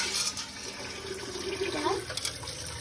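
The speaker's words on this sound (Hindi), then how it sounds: "अभी यहाँ पर मैं घोल रहा हूँ नींबू पानी।" Lemon water being stirred in a home kitchen, a close, continuous swirl and slosh of liquid with a voice talking over it.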